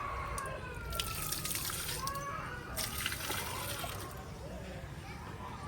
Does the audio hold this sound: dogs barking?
no